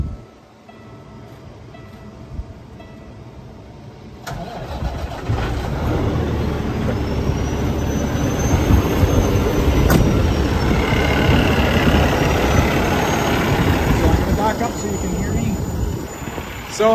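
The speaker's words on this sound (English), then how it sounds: "I'm going to start the truck." A 2015 Peterbilt 367 truck's diesel engine cranks and catches after a quiet start, then runs in a steady, loud, rumbling idle that continues close by with a faint high whine.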